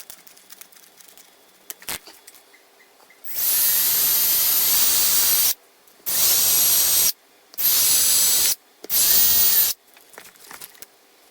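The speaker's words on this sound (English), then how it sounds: "need to drill these holes." A drill with a 25mm Forstner bit runs in four long high-pitched whining bursts, each several seconds, separated by short pauses with light clicks and handling noise between them.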